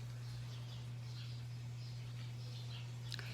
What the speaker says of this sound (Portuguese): se vocês prestarem atenção nos vídeos, vocês vão escutar constantemente passarinho